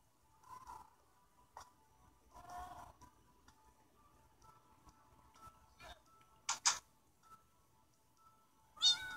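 A Minecraft cat gives several short meows scattered across the stretch, moderately loud and close, with soft game ambience and small ticking sounds between them.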